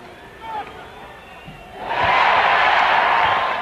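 Basketball arena crowd, Clippers fans, roaring and cheering as David Robinson of the Spurs sinks a record free throw; a quiet murmur swells abruptly into loud, sustained cheering, with speech faintly beneath.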